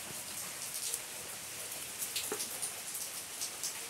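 Rain falling outdoors on a night garden, a steady soft hiss with scattered drop patter, moderately quiet and continuous throughout, no voices.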